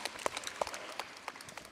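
Sparse, scattered hand claps from a small audience, a few irregular claps over a quiet background.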